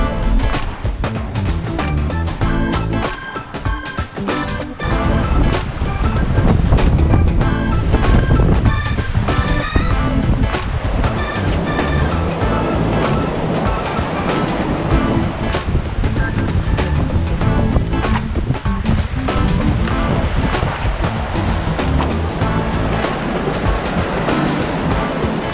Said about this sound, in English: And you can hear that lapping of the water